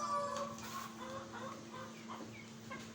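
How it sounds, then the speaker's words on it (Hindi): White bantam chickens clucking softly in a poultry setting, scattered short clucks over a steady background hum, moderately distant and faint. "ये माशाल्लाह से हमारे वाइट बैंटम्स हैं, ये भी लेइंग शुरू कर चुके हैं।"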